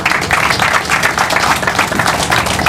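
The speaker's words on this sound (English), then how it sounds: "Give her a round of applause." Dense, steady applause from a crowd at a groundbreaking ceremony, loud and close, a continuous wash of many hands clapping with no speech over it.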